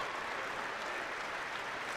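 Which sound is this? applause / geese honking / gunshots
applause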